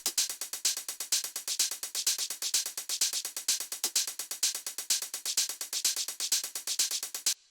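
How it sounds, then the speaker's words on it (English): Techno hi-hat samples play in a fast, steady, evenly spaced pattern of crisp bright ticks with alternating accents, loud and isolated with no talking, then stop abruptly. "The next thing we have here is the hi-hats, which sound like this."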